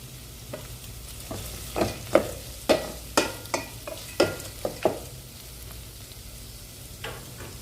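Onions and green chilies sizzling in a pan while a spoon stirs them in a quick run of sharp scrapes and clinks, close by and with no talk.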